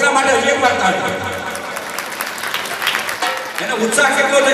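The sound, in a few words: audience applause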